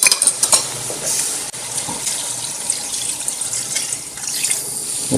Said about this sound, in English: And we're going to put some water.